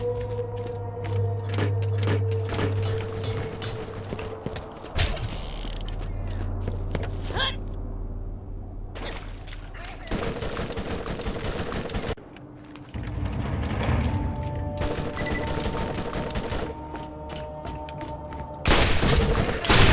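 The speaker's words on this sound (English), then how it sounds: "I should melt some of these guys with my Karate Go Nuts Bouncing Betty" Bouncing Betty grenades and gunfire in the game Borderlands, with dense bursts of shooting, heavy booms and thuds, loud and continuous over a droning game score.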